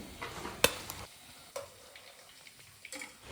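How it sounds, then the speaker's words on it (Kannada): Breadfruit pieces frying in oil: a soft, low sizzle with a few sharp clicks and taps as pieces are moved, fairly quiet throughout. "ಹಾಗೆಯೇ ಉಳಿದ ಎಲ್ಲ ಗುಜ್ಜಿ ಪೀಸನ್ನು ಫ್ರೈ ಮಾಡಿ ತೆಗಿತೀನಿ."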